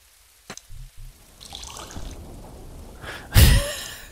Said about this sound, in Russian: Я полил дерево.